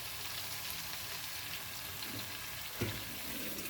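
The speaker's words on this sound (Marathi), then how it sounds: "तर आता मी भांडं धुवून टाकते." A pot is washed under a running kitchen tap, a steady hissing rush of water close by with a small clunk near the end.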